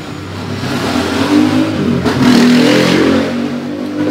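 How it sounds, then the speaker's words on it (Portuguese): Cars and motorbikes pass in a downtown street outside a repair shop, with engines revving and swelling loudly as vehicles go by close to the listener. "Então toda hora passa carro, passa moto."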